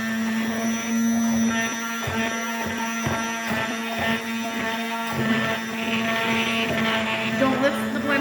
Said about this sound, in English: Don't lift the blender out of it while you have it turned on, it will splatter.